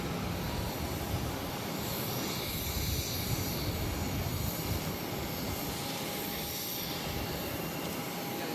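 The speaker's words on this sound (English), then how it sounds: "we got the Aer Lingus A330 touching down on to left" An Aer Lingus Airbus A330 airliner touches down on the runway at Boston's airport, a steady distant broadband roar of jet engines and rushing air with a faint whine, continuous and even throughout.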